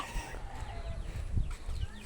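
A chicken clucks softly in short, scattered bursts, close by amid faint background noise.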